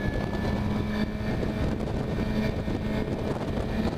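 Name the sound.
2015 Suzuki GSX-R750 motorcycle engine at full throttle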